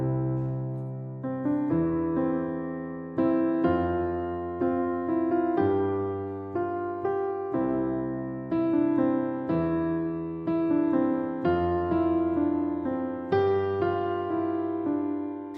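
Piano improvisation built on three-note chords, each chord struck and left to ring for about a second before the next, in a slow steady rhythm of close, clear tones with no voice over it.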